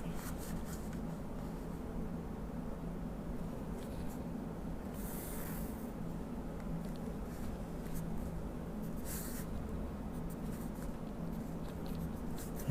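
A pencil drawing an angle on paper for a geometry construction makes soft, continuous scratching, faint and close with little variation.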